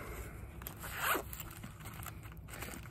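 Zipper on a knife pouch pulled open in one quick, close zip about a second in, set against a quiet room with faint handling noise.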